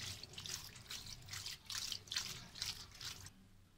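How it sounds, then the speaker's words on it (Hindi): Cold water poured over boiled macaroni in a strainer, a close, steady splashing and trickling stream with brief surges that stops abruptly near the end. "अब हम इसको ठंडा पानी इसके ऊपर डालेंगे।"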